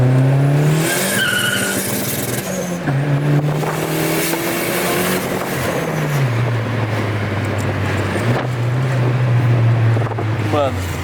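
A turbocharged Ford Focus driven on the street, its engine droning loudly and steadily as it pulls through rising and falling pitch, with fluttering turbo chatter between shifts and a voice speaking briefly.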